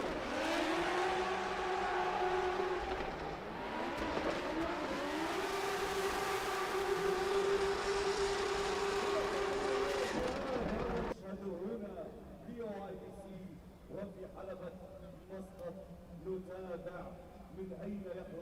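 A drift car at an international drift championship in Oman, engine roaring and revving hard with rising and falling pitch at high volume, then dropping to a quieter rumble, under continuous commentary.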